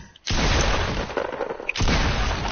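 Loud, close sniper rifle shots in a video game come as heavy, broad blasts that fill nearly the whole clip, broken by one brief dip before the roar returns.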